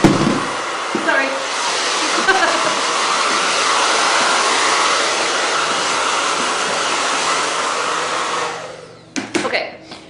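A hair dryer blasts short layered hair during a women's haircut, a loud steady roar that holds for about eight seconds before cutting off, followed by a few brief handling sounds.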